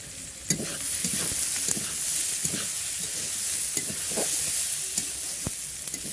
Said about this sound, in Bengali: তো সবজিটা একটু ভাজা হোক